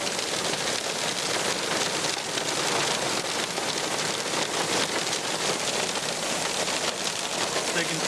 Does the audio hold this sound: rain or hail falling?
yes